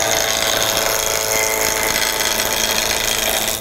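Wood lathe turning a blank at roughly 1100 RPM, a steady close whirring drone with a broadband hiss that holds level throughout without pauses.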